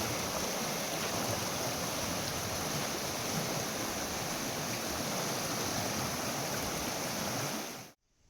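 A swollen stream rushes continuously with a broad, steady roar of water, close and loud, ending abruptly.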